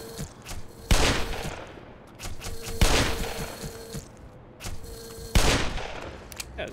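Heavy magnum revolver shots from the game Black Mesa, three loud single blasts spaced about two seconds apart, each with a ringing tail over low background noise.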